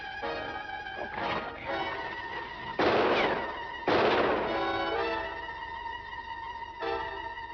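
Gunfire effect in a Canadian Mounties radio adventure serial: two loud bursts of shots stand out over a continuous music bed, followed by a smaller crack near the end.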